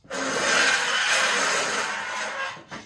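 A metal cabinet frame is slid onto wall screws, giving a continuous harsh scraping screech that holds steady for more than two seconds before a brief final scrape, close and loud.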